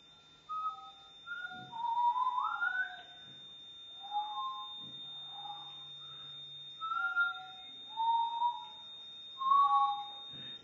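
A person whistles short rising and falling notes alone in a quiet room, in separate phrases with pauses, while a faint steady high tone runs underneath.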